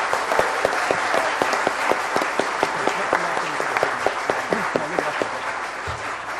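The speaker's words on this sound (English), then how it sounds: "Big round of applause, I think." Conference audience applauding, a dense sustained wash of many hands clapping with a few louder individual claps standing out, fading slightly at the end.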